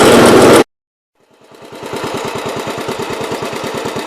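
A 1970 Gravely 408 lawn tractor mowing: after a loud burst cuts to near silence, the single-cylinder engine fades in and runs with a rapid, steady thumping pulse, close and prominent.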